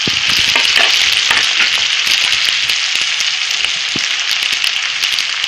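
Onion, tomato and curry leaves fry in a pan, a loud, steady sizzle with crackling spatters and scraping stirs running throughout, no voices.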